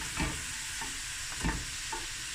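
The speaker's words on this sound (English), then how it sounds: "Just allow that garlic to cook through a bit, few minutes." Garlic frying in a pan before rice is added, a soft steady sizzle broken by a few spatula stirs and scrapes nearby.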